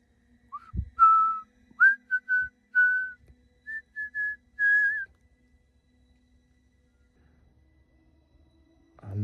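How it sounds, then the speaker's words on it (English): A person whistles a short tune to themselves while out walking, a run of clear, steady notes in quick phrases up close, followed by several seconds of near silence. "I like whistle to myself when I walk."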